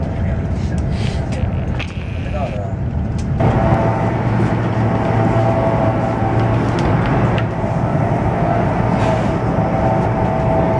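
Chinese high-speed train cruising at maximum speed, heard from inside the carriage as a steady loud rumble and rushing hiss with a few brief clicks and tones over it.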